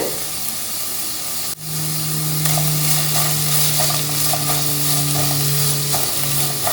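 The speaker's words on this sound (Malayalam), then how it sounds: "ഇനി എല്ലാം നന്നായിട്ടൊന്ന് യോജിപ്പിച്ച് കൊടുക്കാം" Cabbage and spring onion stir-fry in a pan for chicken fried rice, a loud continuous sizzle and hiss up close, with brief scraping stirs and a steady low hum running underneath.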